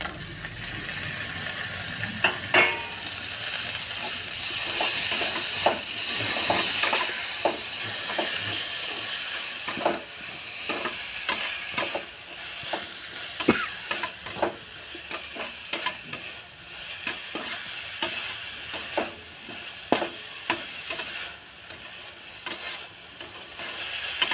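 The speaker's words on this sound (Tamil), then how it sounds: "வெங்காயம் நல்லா வணங்கி வச்சுப்பா தக்காளி போட்டுக்கலாம்" Onion sautés in a pan for tomato chutney: a continuous hiss of frying with frequent close spatula scrapes and taps, rhythmic and busy throughout, and no voice over it.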